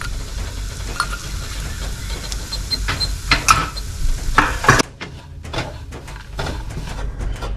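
Jaggery melting with a little ghee in a kadhai over low gas is stirred with a spoon, giving close, irregular scraping and clinking strokes over a soft background hiss that drops away briefly near the end.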